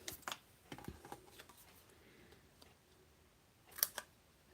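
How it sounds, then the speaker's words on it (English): Metal craft snips cut through paper die-cut word pieces in a few quiet, crisp snips, with one sharper cluster of cuts near the end against a soft room background. "let me get my snips. We're just going to cut these"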